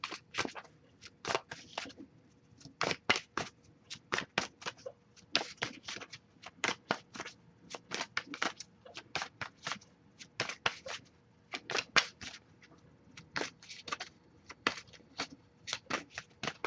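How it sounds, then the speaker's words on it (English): Tarot cards being shuffled by hand, a long run of quick crisp riffling bursts in irregular clusters, close and fairly soft, with no talking. "I'll shuffle for a little bit longer."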